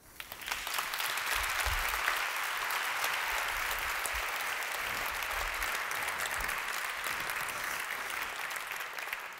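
Audience at a motivational evening talk in Slovenia bursts into sustained applause, a dense, steady roar of many hands clapping close by that holds level for several seconds with faint crowd murmur beneath.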